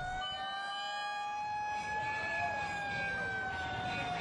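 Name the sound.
fire truck sirens warning residents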